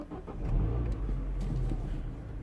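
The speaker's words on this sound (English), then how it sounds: "Actually, I'm gonna start the car." A 2008-era Mini One 1.4 with an N12 engine, running poorly and surging, turns over and catches, then revs up and settles into a low, rumbling idle close by.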